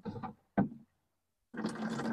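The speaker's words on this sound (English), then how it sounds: "Almost have my watering can full." Water runs from a DIY rain barrel into a watering can in a few separate bursts: two short pours, a pause, then a steadier stream of trickling water.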